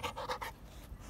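A tired, playful pet dog pants with its tongue out, a quick run of close, breathy huffs that soon fades to quieter breathing.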